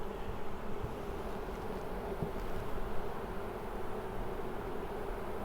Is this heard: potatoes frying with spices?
no